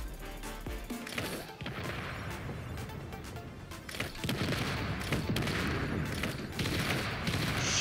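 Rocket turret in Space Engineers launching missiles, a dense, sustained barrage of booming launches and impacts layered into continuous roaring noise, with several sharper blasts standing out near the end.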